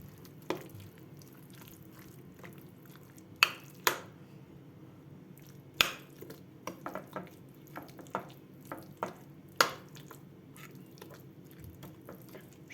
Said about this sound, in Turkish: Şimdi bunu da güzelce bir karıştırıyorum